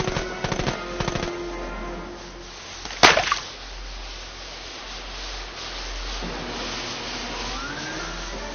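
Gunfire in The American Dream, a PSVR video game, aimed at red barrels, levers and taps: a few quick clustered shots up front, then one loud sharp burst near the middle and a low steady rumble after, with no talking.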